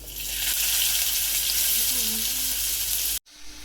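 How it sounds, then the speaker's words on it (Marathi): Steady loud sizzling of cumin and onion frying in hot oil in a kadhai, close up, with a faint voice murmuring under it before a sudden cut. "कढईमध्ये तेल टाकले, जिरं टाकूया, कांदा टाकूया त्याच्यामध्ये"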